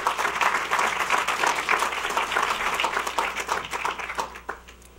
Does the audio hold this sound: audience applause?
yes